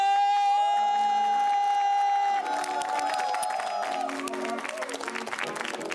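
A studio audience at a Saturday-night TV show breaks into loud applause and cheering for an actress and singer, rising under a sustained musical fanfare that gives way to a broad crowd roar.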